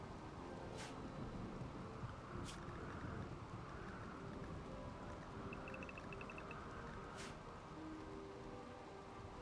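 Steady rain falls in the RimWorld video game during a tribal desert raid, a dense, even hiss filling the whole stretch with a few brief, sharper crackles and faint tones over it and no speech.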